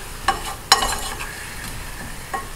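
Fresh raspberries being stirred and mixed in a pan for a sauce, giving soft wet squelching and a few sharper utensil scrapes against the pan, fairly close and without talk.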